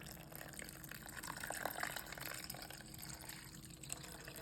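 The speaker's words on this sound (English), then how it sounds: "We're gonna throw 1 cup of boiling water." Boiling water pours from a cup into a bowl of 3-ounce Jello mix, a soft, close, continuous splashing fill lasting a few seconds.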